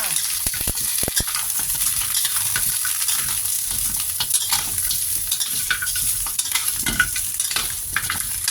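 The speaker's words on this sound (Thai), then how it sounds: "จากนั้นเราใส่ตีนหมูเข้าไปเลยจ้ะ ผัดก่อนนะคะ" Pork trotters stir-fried in a pan for Thai braised pork leg, a steady loud broadband sizzle with repeated scraping and clacking of a spatula against the pan throughout, no voices.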